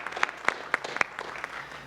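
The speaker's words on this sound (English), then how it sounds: "Please clap for them." Audience applause for a town choir at a holiday concert, a small crowd clapping in a loose, fairly even rhythm of sharp claps, heard at moderate distance for a couple of seconds.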